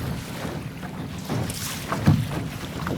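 A Sunfish sailboat moves across the water in a steady 8-knot breeze, with wind rushing past and water lapping softly against the hull close by.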